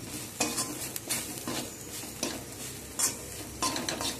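Spices with chilli powder sizzle in a pan for chana masala while a spoon scrapes and stirs in several short strokes, close and fairly quiet.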